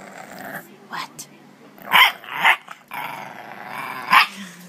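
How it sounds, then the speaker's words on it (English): Puppies growling and yapping in a few short bursts, with sharper barks rising over a steady background of low growls and rustling, close and moderately loud. "In other news, puppies."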